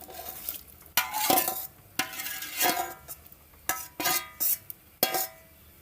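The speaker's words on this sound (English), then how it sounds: "Giving it a stir." A spoon stirring stew beef in a pot, a series of distinct scraping and clinking strokes against the metal with faint sizzling in between, close and fairly loud.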